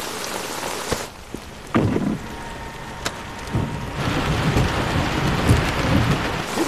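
Steady rain falls with broadband hiss, punctuated by a few sharp cracks and low rumbles of thunder, moderately loud and without speech.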